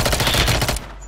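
Rapid submachine-gun fire in Call of Duty: Black Ops Rebirth, a dense, loud burst of shots that stops abruptly before the end, leaving a low rumble.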